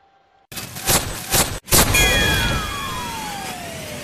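An Arrma Infraction 6S BLX 4x4 RC car on a maiden run on two 3S 5000 mAh LiPo packs: bursts of electric motor whine sound, then a high pitch that sweeps downward as the car speeds away.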